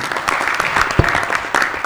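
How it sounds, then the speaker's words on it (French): A short burst of audience clapping rises in a studio during a summer holiday talk show segment, loud and close, with one sharper clap standing out midway. "Merci, on l'applaudit."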